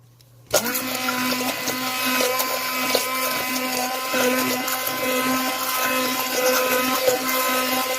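A blender mixing eggs for a keto coconut lime parfait whirs steadily and loudly after starting abruptly half a second in, its motor droning with a high, busy whine throughout.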